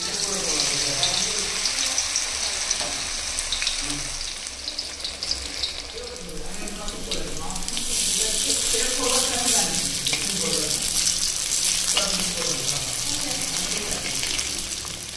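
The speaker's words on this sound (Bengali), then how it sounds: "রান্নাঘরে এসে দেখি বুনু অলরেডি রান্না বান্না শুরু করে দিয়েছে" Food sizzles and fries in a home kitchen pan while being stirred, a continuous hissing crackle with occasional scraping and running-water sounds, moderately close.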